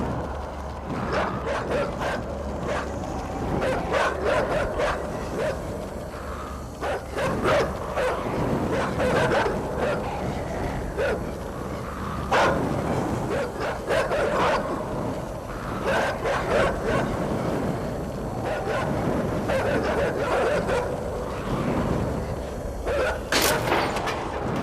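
Several dogs bark and yip in a video game, loud repeated barks over a rumbling, mechanical background, with whimpers as the pack runs off.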